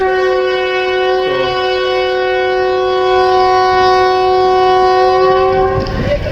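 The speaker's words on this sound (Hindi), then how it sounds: "गाड़ी का हॉर्न बाई किया जी, गाड़ी जा रही है, गाड़ी हो गई है रवाना" A loud, sustained train horn blares steadily for several seconds over the rumble of a departing passenger train, fading at the end.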